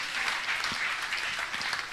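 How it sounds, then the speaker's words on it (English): Dense, continuous applause from many hands clapping together at a church gathering, fairly close and steady for the whole short stretch. "Clap your hands for Jesus."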